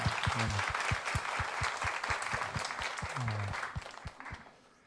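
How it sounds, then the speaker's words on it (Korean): A church congregation applauds in a sustained, dense wash of clapping that fades toward the end, with low voices and a few sung or spoken tones mixed underneath. "우리 하나님께 다시 한번 사랑과 감사의 박수 한번 올려드리겠습니다."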